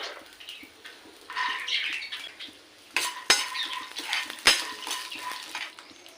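Peanuts and chopped green chillies fry in a spoonful of oil in a pan, with light sizzling, scattered pops and a spoon scraping and clinking against the metal. The sounds are fairly faint and uneven, with no talk.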